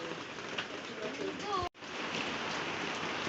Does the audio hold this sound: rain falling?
yes